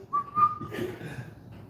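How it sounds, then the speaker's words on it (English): A steady, clear whistle made with cupped hands rises and holds for about a second, then fades into background noise and faint chatter. "figure out the whole whistle with your hands"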